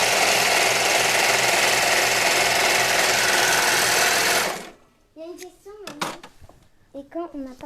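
An overlocker (serger) sewing machine stitches a fabric edge for a caraco or tank top, a loud, steady, fast mechanical whir running alone for about four and a half seconds, then stopping abruptly as a child and an adult begin talking.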